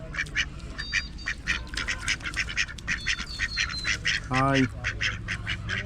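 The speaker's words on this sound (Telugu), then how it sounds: "ఇదే బాతులు" Ducks quack in rapid, repeated bursts close by, a steady chorus running throughout, with a person briefly speaking a greeting partway through.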